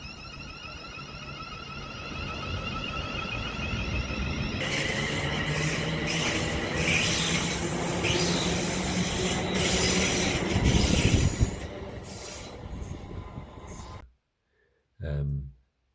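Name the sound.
model train rolling stock running on track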